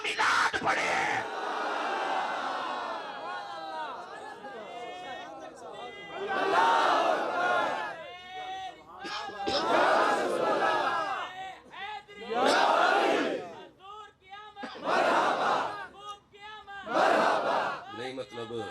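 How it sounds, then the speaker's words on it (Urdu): A large crowd at a religious gathering chants slogans in loud repeated bursts of massed voices, separated by short lulls, close and filling the space. "نعرے لائی جا رہے"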